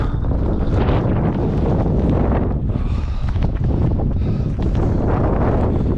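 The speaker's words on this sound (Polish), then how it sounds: "Dlatego mamy bardzo silny wiatr." Strong wind roaring and buffeting the microphone near the summit of Hochfeiler, a 3510 m Alpine peak, loud and constant throughout, with no voices.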